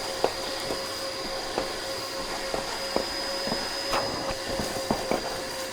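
A SkyVac industrial gutter cleaning vacuum runs with a steady high whine and hiss, broken by repeated sharp clicks and knocks as debris rattles through the hose.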